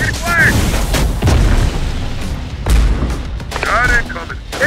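Rocket fire in Terminator: Dark Fate - Defiance, set in Chihuahua, Mexico: loud, heavy booming launches and blasts at intervals over a continuous low battle rumble, with radio chatter tones in places.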